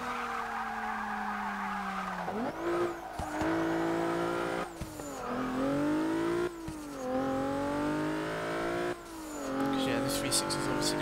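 A 2014 Volkswagen Golf R fitted with a heavier V6 engine races in the Forza 6 video game. The engine revs rise and dip steadily through gear changes, with tire squeal and skidding, loud and continuous throughout.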